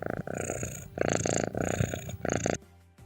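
Steady rhythmic cat purring, loud and close, in regular rumbling cycles for about two and a half seconds before it cuts off.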